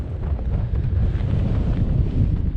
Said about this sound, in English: That wind is absolutely perishing.